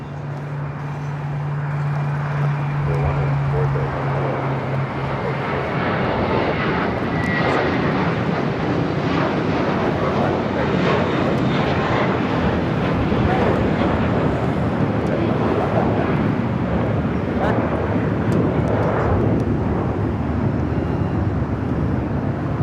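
A JetBlue airliner leaves LAX bound for Boston, its engine roar building early and staying strong and steady, with a voice heard faintly at times.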